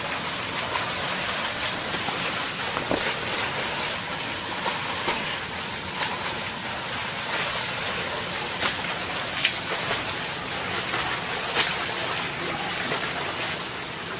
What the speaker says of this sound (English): the water flow is not powerful enough to hold me back to actually swim in place